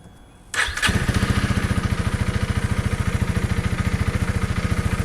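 A Honda CRF 300 motorcycle engine cranks and catches within a second, then settles into a steady, close, loud idle with an even, rapid pulsing beat.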